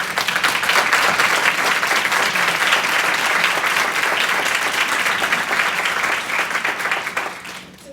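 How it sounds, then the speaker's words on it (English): Sustained, full audience applause welcoming an expert panel at an evening event on women's power and the vote, dense and even before tapering off in the final second. "why don't we welcome them with our applause"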